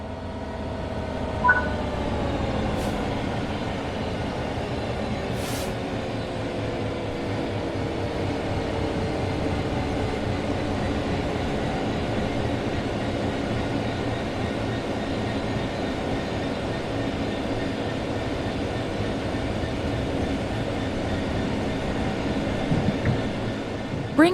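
A train in Train Sim World 3 coasts on level ground, giving a steady, continuous rumble with faint droning tones and a couple of brief high clicks, holding a constant level throughout.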